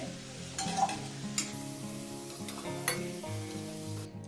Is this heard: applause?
no